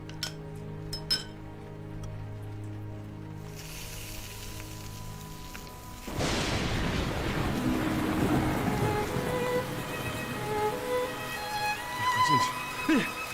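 After a quiet stretch with faint tones, heavy rain suddenly starts, a dense, loud hiss with scattered clinking drops and occasional voices.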